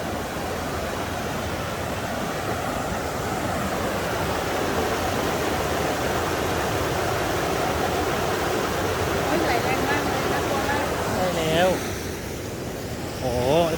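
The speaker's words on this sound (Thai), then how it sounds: "ผมก็ไม่เคยเห็นน้ำเยอะขนาดนี้มาก่อน โอ้โหไหลแรงมากเลย" Heavy, fast water rushing through Huai Kaeng Kok creek in the forest after a surge in flow, a loud and steady roar that lasts throughout. A few faint birdlike chirps sound near the end.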